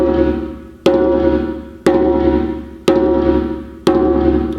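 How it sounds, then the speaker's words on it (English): A djembe rings out with four evenly spaced open-tone hand strikes, each a sharp, loud, close attack decaying into a short resonant ring before the next. "So the open tone sounds like this."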